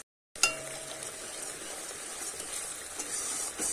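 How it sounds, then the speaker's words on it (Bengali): A spice paste for matar kofta curry sizzles steadily in a hot pan, a sharp clink at the start followed by constant frying hiss with occasional stirring scrapes, close and alone. "মশলাটা আমি একটু কষিয়ে নেব।"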